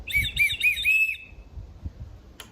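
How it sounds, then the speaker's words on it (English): A loud survival whistle from an MSK-1 Elite kit gives a few quick shrill, warbling bursts for about a second, then stops, leaving quiet background rustle. "I also have a whistle that's actually pretty loud."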